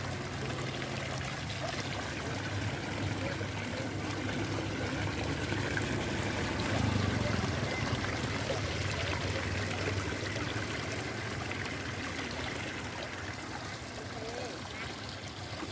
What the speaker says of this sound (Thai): น้ำตกนี่